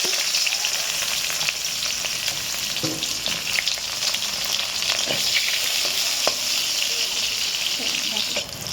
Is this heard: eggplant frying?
yes